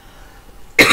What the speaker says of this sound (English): I hope I don't start coughing